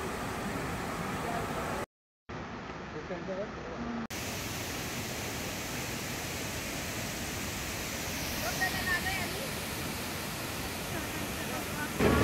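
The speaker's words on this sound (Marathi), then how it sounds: "हा बघा हा आहे सवतकडा धबधबा." Savatkada waterfall near Chiplun in Konkan, in monsoon flow, sends out a constant broad rushing roar, with a short dropout early on and faint voices in the background.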